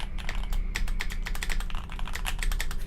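Someone types steadily on a freshly built mechanical keyboard, producing a rapid run of crisp, close clacks over a low steady hum, with no one speaking.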